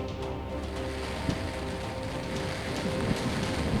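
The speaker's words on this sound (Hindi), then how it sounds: "मैं जुहू बीच पर स्थित हूँ और यहाँ पर बहुत तेज़ बरसात हो रही है" Heavy monsoon rain and strong wind at Juhu Beach in Mumbai, a steady broadband roar of downpour and gusts buffeting the microphone, constant throughout with no voices.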